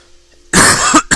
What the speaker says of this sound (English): Sorry to cough in your ears